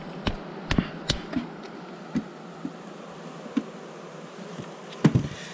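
Honey bees buzz around a beekeeper working without protection during an August honey harvest, a steady low drone with passing close flybys and a few soft taps and knocks, no talk.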